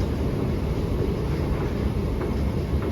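A steady low rumble of a metro train moving through an Istanbul station, broadband and continuous with no talk, the roar holding even for a few seconds.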